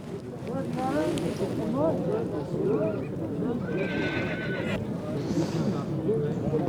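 A horse at a Kyrgyz horse show in Nookat gives several whinnies close by, heard under steady talk and some wind noise.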